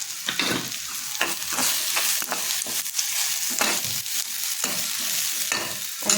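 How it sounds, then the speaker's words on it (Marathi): Cabbage, radish, carrot and onion fry in a pan for cabbage manchurian, a close, steady sizzle broken by regular scraping strokes of stirring. "तर फ्राय होऊन घेऊया"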